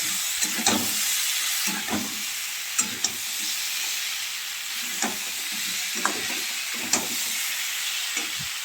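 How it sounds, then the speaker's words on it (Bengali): Peas being sautéed with potato and cauliflower masala give a steady hiss of frying, broken by a spoon scraping and tapping the pan at irregular intervals, close by. "এর ভিতরে আমি দিয়ে দেবো মটরশুঁটি খাওয়া আমি ভালো করে কষিয়ে নেব"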